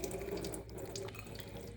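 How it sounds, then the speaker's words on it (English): Cold tap water runs steadily over cooked noodles in a sink, a continuous close splashing rush with no speech. "then I drain it and rinse it over cold water"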